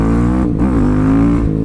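A motorcycle engine revs hard while being ridden, loud and close, a dense throaty roar that rises in pitch briefly mid-way, with no talking.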